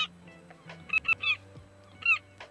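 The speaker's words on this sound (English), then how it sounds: "I like how the seagulls make noise" Cartoonish seagulls in the cozy video game Tiny Bookshop give a few short, bright honking squawks, closely grouped and then one more after a pause, over a soft low background tone.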